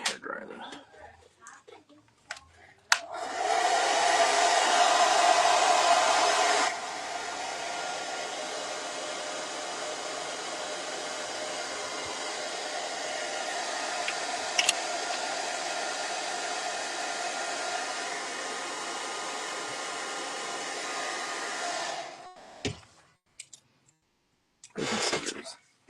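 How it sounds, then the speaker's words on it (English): A hair dryer blows steadily for most of the clip, a loud continuous whoosh that starts abruptly, holds for about twenty seconds, then cuts off, with brief voices nearby. "Hair dryer then."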